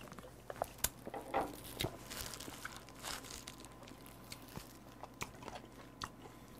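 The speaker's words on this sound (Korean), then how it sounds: "여기 레몬이 양념 잘 밴 이 레몬도 한번 싹 집어 한번 한번 먹어볼까요?" Seasoned lemon slices from a boiling seafood dish with skate are chewed up close, giving soft, wet bites and crunches in an irregular rhythm, with no talking.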